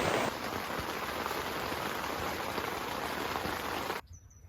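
Heavy rain drums hard and continuously on a truck tent while wind blows outside, a dense, loud wash of droplets that cuts off abruptly near the end.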